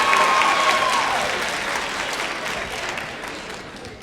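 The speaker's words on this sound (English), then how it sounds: "So let's give him a round of applause" Applause from an audience at a Jackson State University concert band outreach event fills the room steadily and fades slowly, with a faint tone running under it at the start.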